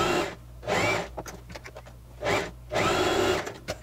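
A sewing machine runs in short bursts while stitching a straight seam on a puff-sleeve blouse, with quiet handling sounds in the pauses between runs, heard close up and fairly quiet.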